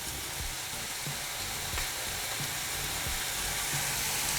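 Asafoetida (hing) hits hot oil in a pan and gives a steady, dense sizzle that stays loud and even throughout, with faint stirring clicks and no voices.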